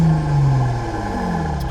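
A car's exhaust in Sport Plus mode holds a deep, close engine drone whose pitch sags gradually as the revs settle, ending with a faint click, with nobody speaking.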